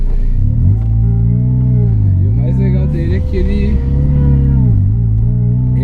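Supercharged Ford Ka engine revving under load, a loud rumbling drone rising and falling in pitch with a higher whine above it, while someone talks over the sound.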